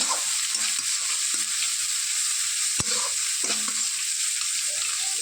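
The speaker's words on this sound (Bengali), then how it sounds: "দিয়ে আর একটু নাড়িয়ে চাড়িয়ে নিলাম।" Small fish curry with turmeric and salt sizzles in a pan and is stirred, a constant bright frying hiss with a few spoon scrapes and one sharp knock, close up and without speech.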